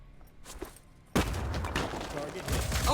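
Return gunfire erupts in the Phoenix Point strategy game, a sudden loud volley that starts after a quieter stretch with a faint earlier pop and then holds as a dense, continuous burst of shots and impacts to the end.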